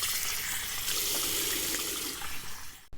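Tap water running into a sink to rinse off after a shave: a close, steady rushing stream that continues throughout and cuts off abruptly at the very end.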